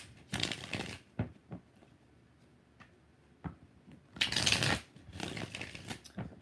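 Tarot cards riffled in short, crisp bursts, loud shuffles near the start and again past the middle, with a few scattered taps and clicks between them, no voices.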